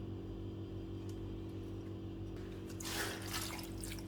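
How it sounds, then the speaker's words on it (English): Water is poured into a pot of Egusi and Ogbono soup with goat meat, onion and chili, a short splashing rush over a steady kitchen hum. "add water"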